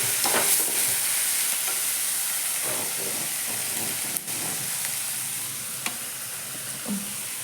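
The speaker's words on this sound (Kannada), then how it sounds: "ಸ್ವಲ್ಪ ಕೊತ್ತಂಬರಿ ಇದು ಏನ್ರಿ ಕರಿಬೇವು ಹಾಕ್ತೀನಿ." Curry leaves and coriander sizzle steadily in hot oil, a continuous broadband frying hiss with a few scraping stir strokes and clinks from a spoon in the pan, close and alone with no talking.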